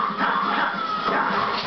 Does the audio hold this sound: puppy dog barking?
yes